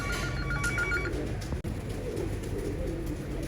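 Haji Amanullah's pigeons coo in low, continuous murmurs nearby, with a brief phone-like ringing tone early on and no talking.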